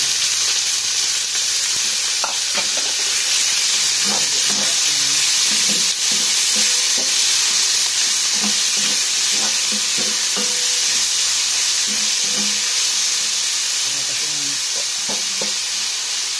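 Steady loud sizzling of chicken sautéing in a round-bottomed pan with garlic and ginger, with intermittent scraping and stirring of a utensil throughout.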